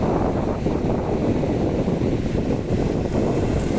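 Ocean waves of the Philippine Sea break at Binurong Point as a constant, loud, broad roar of surf mixed with wind buffeting the microphone.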